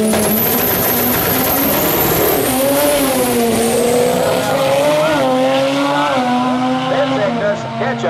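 Drag race cars launch down the track at an IFO drag racing event, with loud, close engines screaming and climbing in pitch through rapid gear changes, and the overlapping engine notes of two cars sweeping up and down together.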